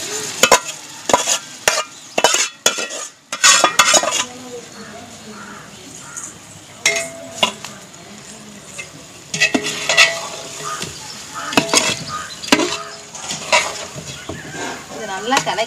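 Meat coated in ginger paste is stirred in a biryani pot at a village cooking setting, a spoon scraping and knocking the pot in uneven bursts over a soft sizzle, with people talking and crows cawing nearby.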